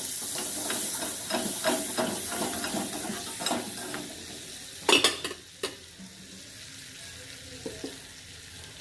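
Butter sizzles and hisses in a hot pan for a pizza made from shop-bought dosa batter, with steady frying crackle broken by sharp clinks of a utensil against the pan.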